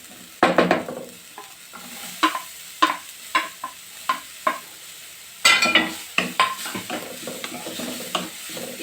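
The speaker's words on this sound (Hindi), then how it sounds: "इसे भी करीब आधा मिनट चलाते हुए इसे भूनेंगे।" Capsicum, carrot and onion are stirred and fried in a pan for a pizza McPuff filling, with a steady low sizzle under a run of sharp, irregular spatula scrapes and taps against the metal.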